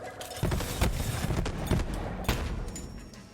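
Rapid, dense bursts of explosions and gunfire from the fast-paced shooter BPM: Bullets Per Minute, several heavy booms stacked close together and loud throughout.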